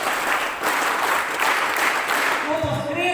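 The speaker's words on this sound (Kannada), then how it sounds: "ನಿಮ್ಮ ಪ್ರೀತಿಯ ಒಂದು ಚಪ್ಪಾಳೆ ಇರಲಿ." Audience applause fills a college hall at the inauguration of sports and cultural activities at a first-grade college in Pandavapura, steady sustained clapping from a crowd that thins near the end.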